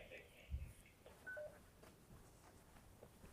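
A walkie-talkie phone sends a quick run of DTMF tones for its number, short beeps in a burst at the end after a soft voice and background hiss, faint overall.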